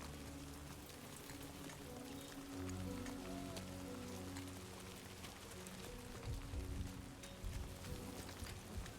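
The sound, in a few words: rain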